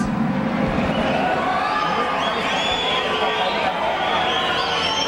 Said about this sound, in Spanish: Y el aplauso para nuestras edecanes